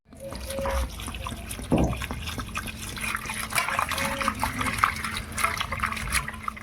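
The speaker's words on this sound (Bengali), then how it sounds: "ভালো করে এগুলো ধুয়ে নেব" Potatoes and onions being washed by hand in water in a home kitchen, with steady splashing and sloshing throughout at close range, faint background noise and brief watery bursts.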